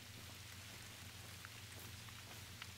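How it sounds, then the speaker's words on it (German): Steady rain falls in the Mississippi map of the hunting game theHunter: Call of the Wild, a soft continuous patter on the ground with a low constant rumble beneath, faint and unbroken. "Und es regnet weiter am Mississippi."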